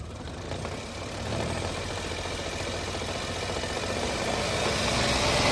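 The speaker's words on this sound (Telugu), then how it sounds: "ఇప్పుడైతే మీకు ఒకసారి వెహికల్ స్టార్ట్ చేసి చూపిస్తాను" A 2016 Maruti Celerio VXi automatic car engine starts and runs at a steady idle, a low continuous rumble that builds slightly after the first second and holds.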